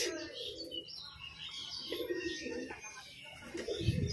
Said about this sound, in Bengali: আর এই দুটো পায়রা এখন বাইরে বর্তমানে এইখানেই আছে